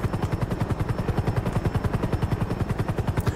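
A helicopter in GTA V flies close, its rotor thumping in a fast, even rhythm with a steady turbine whine above, loud and unbroken.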